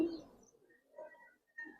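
Giribaz pigeon cooing, a couple of soft low coos close by, brief and fairly quiet.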